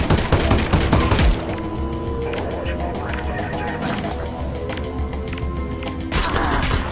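In the Half-Life: Alyx video game, gunfire is aimed at the player. A loud burst of rapid shots opens, then rattling fire and impacts go on nearby, and a heavier volley returns near the end.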